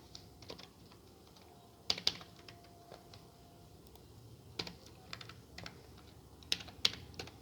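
Keys clack on a computer keyboard as C code is typed, bursts of quick clicks with short pauses between, fairly faint and close, with no voices.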